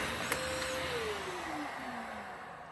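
A Eureka Dash Spring vacuum cleaner runs steadily at close range, its motor drone constant with a thin tone that slides gradually lower as it works.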